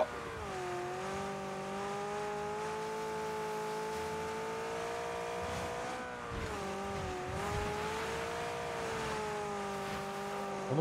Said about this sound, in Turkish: Oğlum bu araba niye kayıyor ya?